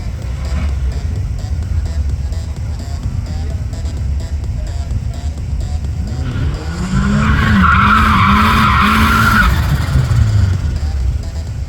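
Mark 1 cars drag racing, a naturally aspirated car against a turbo, with a loud engine roar and tire noise building from about six seconds and rising engine sweeps over steady background rumble.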